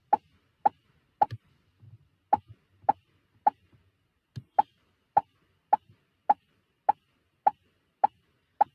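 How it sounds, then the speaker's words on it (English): Cartoon pop sound effect from a Scratch programming project, played about fourteen times in a steady rhythm as a sprite changes costume, each pop short, crisp and fairly loud over otherwise near silence. "So I'm adding this pop sound before changing the costume."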